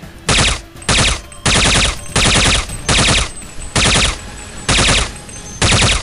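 Automatic gunfire from Counter-Strike, fired in about eight loud, sharp bursts of roughly half a second each with brief gaps between them, no talking.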